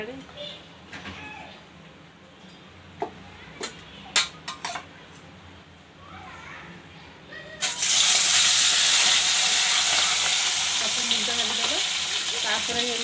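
Pieces of bhakur fish slide into hot oil and fry with a loud, steady broadband sizzle that starts suddenly partway through, after some scattered clinks and handling noises at close range.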